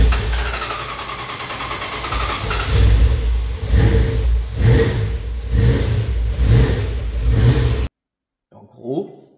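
A Dodge Charger with a wiring fault that had kept it from running starts up and revs in several loud, rising bursts close by, with voices talking over it, before the engine cuts out abruptly.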